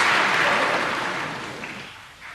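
An audience at an evening ashram satsang in Ahmedabad claps together: a brief, dense wash of applause that starts full and fades away over a couple of seconds.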